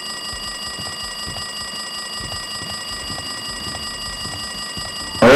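Electronic alarm in the video game Danganronpa 2 ringing continuously as a steady, shrill tone layered over background game ambience, sustained and fairly loud throughout with a sudden louder burst at the very end.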